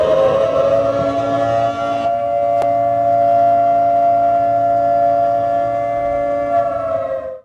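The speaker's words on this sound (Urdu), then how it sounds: "ریلی کے ڈی چوک پہنچنے پر سائرن بجائے گئے" A civil defense siren wails steadily and very loud for several seconds at a rally at D-Chowk in Islamabad. It holds a sustained tone until it cuts off abruptly.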